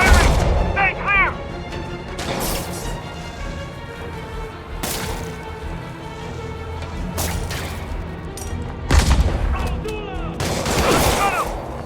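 Gunfire erupts in a combat sequence from the Spider-Man Remastered video game, with repeated heavy bursts and booms spread over the scene, mixed with game music and shouted voice lines from enemies.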